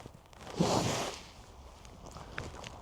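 A single motorcycle jacket zipper pull, a short rasping zip lasting about half a second, close by, followed by faint rustling and quiet handling noises.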